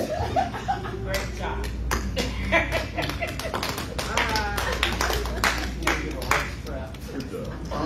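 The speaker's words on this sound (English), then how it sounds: "I'll clap for myself." One person claps their own hands in scattered, uneven bursts of sharp slaps, with speech and light laughter mixed in around the clapping.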